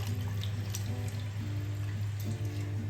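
Water runs steadily while fish is rinsed, a close, continuous trickle and splash with a low hum beneath and small drips and sloshes.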